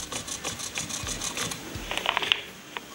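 A rope knife shaving the paracord wrap on a lever-action gun, heard close as a series of short, soft scraping strokes with light clicks, quiet and without talk.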